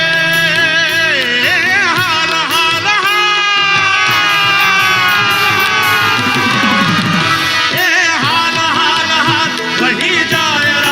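A live crowd at a song performance cheers, claps and shouts loudly and continuously, with children's voices and singing-like tones mixed into the dense noise.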